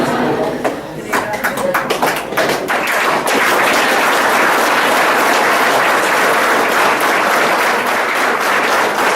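A room of students claps hands, starting with a few scattered, separate claps that quickly swell into loud, dense, continuous applause lasting to the end, with talking mixed in early.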